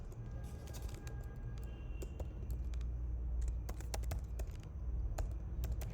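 Rapid clicks of a computer keyboard while code is typed, quick uneven keystrokes close by with no voices over them.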